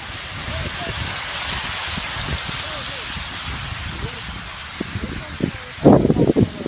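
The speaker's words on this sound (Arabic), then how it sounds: "هذا برد." Hail patters and rattles steadily across surfaces outdoors by a sand river, a dense close hiss with scattered louder impacts building near the end, while someone talks over it.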